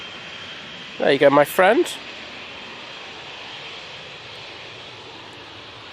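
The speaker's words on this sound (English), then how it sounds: "This KLM now is off back to Amsterdam." A KLM airliner departing Manchester Airport for Amsterdam, a faint steady distant engine roar under a short burst of nearby speech.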